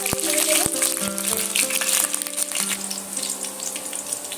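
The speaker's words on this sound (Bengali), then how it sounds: "তেলটা আমার এখানে গরম হয়ে গেছে আগে থেকে যে সিদ্ধ করা আলু ছিল সেটা আমি তেলের মধ্যে অ্যাড করে দেব" Boiled potatoes added to hot oil for dum aloo fry with a loud, steady hiss and crackle, starting with a few sharp clinks of utensils and settling into continuous close sizzling.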